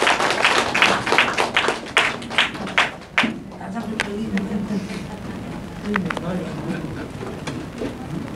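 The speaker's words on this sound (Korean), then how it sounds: "힘찬 박수 부탁드립니다." At the close of a political party's invited lecture in Korea, a hall audience applauds with a dense, loud burst of clapping that fades to scattered claps as voices murmur underneath.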